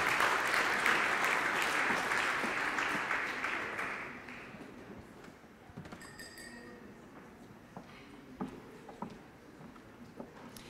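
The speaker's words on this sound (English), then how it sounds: "Give him a round of applause." An audience in a school gym applauds after a lot sells at a fundraiser auction. Loud clapping fades over about four seconds, followed by a few scattered claps and light clinks.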